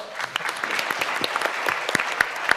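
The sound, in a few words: applause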